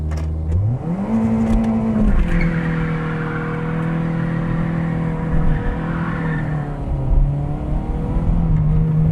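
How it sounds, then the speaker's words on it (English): A Toyota car engine revs hard during a reverse-to-neutral drop on a hill, the pitch sweeping up then holding a steady high whine before easing down, loud and close with no talking. "that was a very successful neutral drop from reverse"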